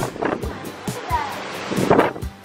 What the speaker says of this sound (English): Check out the waves. Oh, that's some big waves tonight because it's so rough.